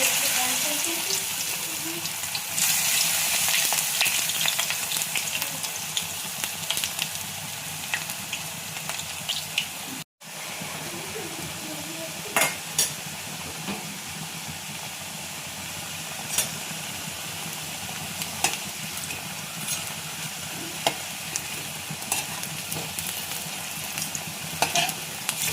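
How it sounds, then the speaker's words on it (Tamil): Poha vadai fritters shallow-fry in a little oil with a constant crackling sizzle, scattered sharp pops and occasional utensil clinks over about twenty-five seconds, briefly cut off midway. "பொரிச்சு எடுக்க போகிறோம். ஆனால் ரொம்ப எண்ணெய் ஊற்றல, சேலோ ஃப்ரை மாதிரி தான் நான் செய்கிறேன்."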